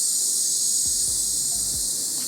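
A singer in breath training lets out a soft, controlled hissing exhale, a steady, even stream of air held close and continuous with no voices.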